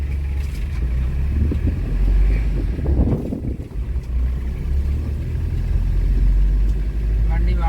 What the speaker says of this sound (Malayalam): വണ്ടി വളരെ സ്മൂത്തായിട്ടാണ് നീങ്ങുന്നത്.